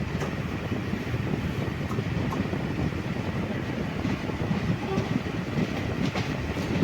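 The Sabari Express sleeper train runs on rails near Ottapalam, giving a steady rumbling roar with faint clickety-clack running throughout.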